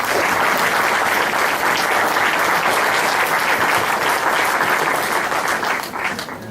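An auditorium audience at a university conference applauds steadily and loudly for several seconds, a dense wash of clapping that eases slightly at the end.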